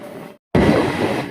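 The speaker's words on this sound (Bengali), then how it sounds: "শিলিগুড়ি টাউনের পর আমাদের ট্রেন দ্রুত গতিতে ছুটে চলেছে নিউ জলপাইগুড়ি জংশন রেলওয়ে স্টেশনের দিকে" A Siliguri–Haldibari DEMU passenger train runs at speed after Siliguri Town, a steady near rumble and rattle of the carriage interrupted by a brief dropout of silence.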